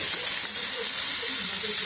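Greens sizzle and crackle steadily in a hot pan, a continuous frying hiss with small pops throughout, close up and with no voices.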